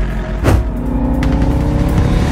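A car speeds past, its engine roaring loud and steady throughout, with a brief rising surge near the start and a sustained high-revving drone after it.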